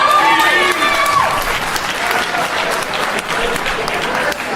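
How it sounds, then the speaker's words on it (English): Comedy club audience clapping loudly and steadily throughout, a dense burst of applause from a crowd with some voices mixed in. "You hear them punk ass claps?"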